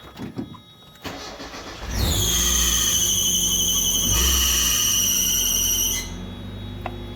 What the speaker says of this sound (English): If you just want to hear this thing run, it does run very nicely.